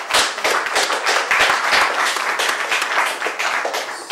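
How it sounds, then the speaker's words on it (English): A school audience claps for a speaker, with loud, close hand claps in a dense, uneven patter that holds steady for a few seconds, with no voices over it. "Let's give her a round of applause"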